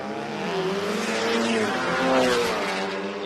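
VW Golf drag cars with anti-lag launch at a drag racing event, a loud continuous roaring engine note with rising, wavering pitch and a slight swell in the middle.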